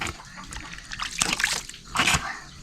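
Someone washing their face with water, with close splashes and slops in irregular bursts and trickling between them, with brief background voices.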